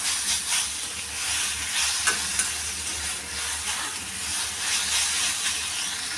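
Sautéed pirandai being stirred together with other ingredients in a hot pan: a continuous close sizzle and hiss with scattered soft scrapes and clinks, no talking.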